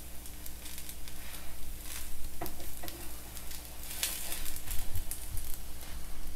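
Rava dosa made from sooji batter sizzles in a hot pan, a steady crackling fry with soft pops and a low background hum, no talking.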